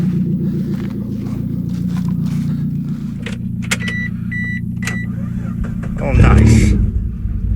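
Old Toyota car with a loose starter connection, heard with keys and clicks before its engine cranks and catches with a loud burst near the end, then idles, while a person speaks briefly.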